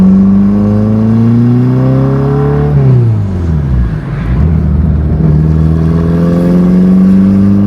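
Turbocharged K24-swapped Toyota MR2 on the street, its engine droning loud and steady as it accelerates, revs climbing through a gear change midway before pulling up again.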